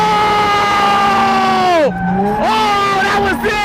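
A drift car's tires squeal in a long, loud wail during a handbrake skid, the pitch sweeping down sharply, then rising again in a second shorter squeal.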